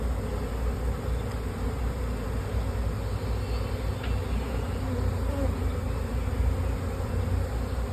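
Honey bees hum and buzz steadily in an open hive while brood frames are worked, a dense, close, continuous drone with no talk over it.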